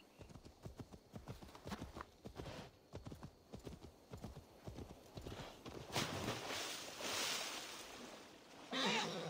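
Horse hooves gallop in a steady, fast clip-clop rhythm in Assassin's Creed Valhalla, close and prominent, joined near the end by a brighter rushing swell and a brief splash-like burst.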